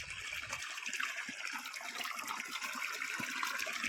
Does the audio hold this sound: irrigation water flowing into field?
yes